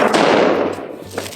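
A single 7.62x39 AK round from the Red Army Standard load with the 8V3 projectile fired into ballistics gel, heard as one loud, close blast with a brief decaying echo and no voices.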